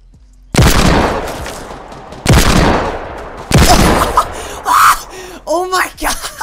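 Pistol shots ring out in Fortnite, three sharp loud blasts spaced about a second and a half apart, each trailing into a booming decay, followed by shorter bursts and game sound effects.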